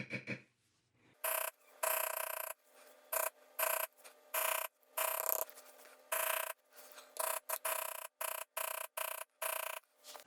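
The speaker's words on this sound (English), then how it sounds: "I'm tapering my beveling." A beveling tool being tapered along a line in tooled leather gives short, repeated raspy rubbing strokes in an irregular rhythm, close and fairly quiet, with gaps of silence between strokes.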